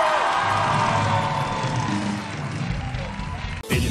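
A studio audience on a Turkish comedy show cheers and claps loudly, with shouts and whoops mixed into the crowd noise, which fades slightly before a sudden cutoff at the end.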